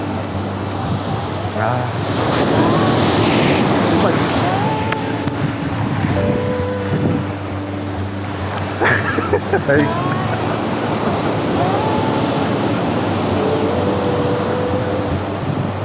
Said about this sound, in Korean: 이게 파도가 진짜 맹렬하다